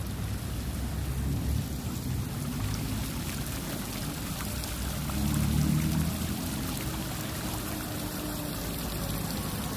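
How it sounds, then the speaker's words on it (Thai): Waterfall at a temple, a steady rushing and splashing of falling water that fills the scene evenly, swelling briefly midway, with no voices. "น้ำตกน้ำตก"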